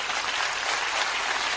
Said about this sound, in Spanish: Un aplauso para cada uno de sus líderes.